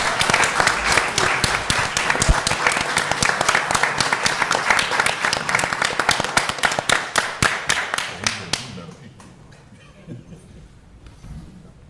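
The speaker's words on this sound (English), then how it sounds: "Please give him a round of applause." Hearty applause at a city commission meeting honoring 75 years of service, many hands clapping loudly and close, with some individual claps standing out, before tapering off into quiet room noise near the end.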